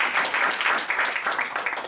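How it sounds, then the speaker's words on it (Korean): A brief burst of audience applause, many hands clapping steadily at moderate loudness, with no speech over it. "박수."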